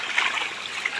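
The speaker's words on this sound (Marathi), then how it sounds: "या वाटेला पण आता भरपूर पाणी जाईल." A short burst of water running along a path on a rural hillside, a steady close trickling gush heard alone.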